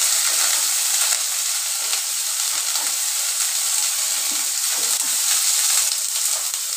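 Boiled soybean chunks frying with potatoes in a pan, a loud, close, steady sizzling hiss lasting the whole stretch, with faint scraping stir sounds underneath and no speech.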